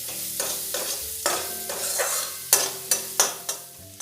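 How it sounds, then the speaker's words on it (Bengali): Chopped onion frying and being stirred in a pan, a steady sizzle broken by repeated scraping strokes of a spatula, close and fairly loud with no voices. "দিয়ে পেঁয়াজটা একটু ভালো করে ভেজে নেব।"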